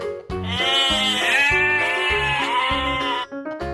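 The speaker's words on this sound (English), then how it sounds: "sheep" A sheep bleats loudly and repeatedly in a long, wavering, nasal call, close and unbroken for several seconds.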